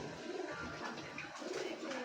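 Racing pigeons coo softly near a loft at the end of an interislands race in Ibajay, Aklan, a few low, faint murmuring calls close by with no talking.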